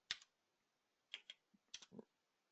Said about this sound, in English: I could start typing in